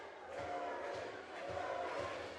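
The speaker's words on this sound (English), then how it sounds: "Crowd very much in favor of Rudy Lockhart" A wrestling crowd at an ECPW event cheers and roars in a steady, dense wash of noise that swells slightly around the middle.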